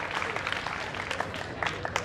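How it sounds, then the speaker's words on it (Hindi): Audience clapping at a live Hindi poetry event, a brief burst of moderate applause with scattered sharp claps and crowd murmur. "उनके सम्मान में भी जोरदार ताली बजा दीजिए"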